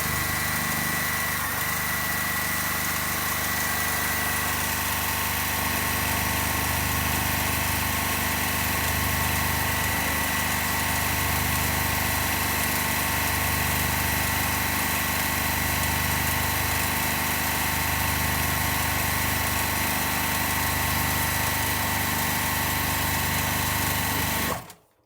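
A sewing machine runs steadily while stitching quilt strips for a bargello pattern, a loud continuous mechanical hum with a faint pulsing beat that holds for the whole stretch before cutting off abruptly.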